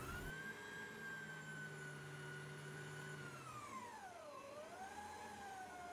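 A stand mixer on its third or fourth speed setting kneads dough for meatless mock çiğ köfte, giving a steady, continuous motor whine that dips briefly in pitch and then recovers, with no talking.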